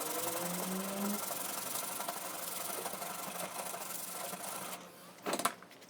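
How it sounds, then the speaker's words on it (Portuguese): Sandpaper rubbed over rusty metal gives a steady, close rasping scrape that continues throughout, ending with a brief louder scuff near the end. "Eu vou lixar o outro lado, que já está enferrujado. Eu vou remover o máximo que eu conseguir disso aqui, desse ferrugem."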